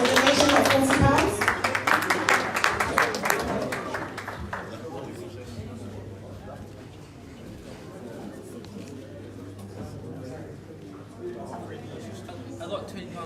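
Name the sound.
audience applause for a donor at a town hall fundraiser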